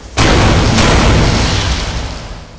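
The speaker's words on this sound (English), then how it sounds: "as my finger closed on the trigger of my third father's cannon. 2 shots!" Two booming hand cannon shots ring out in Destiny, one hard blast followed closely by a second, both loud and reverberant with a long rumbling tail.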